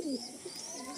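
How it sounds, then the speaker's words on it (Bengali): A brief low coo from a lal dom, the red-tailed pigeon also known as chocolate dom, heard close at a pigeon loft, one short rolling note against soft background murmur. "লাল দম পায়রা আমাদের প্রত্যেকের খুব শখের পায়রা।"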